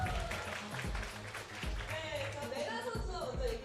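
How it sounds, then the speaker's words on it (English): A crowd applauds an esports team after a League of Legends regular-season win, steady clapping running under a talking voice throughout. "Round of applause."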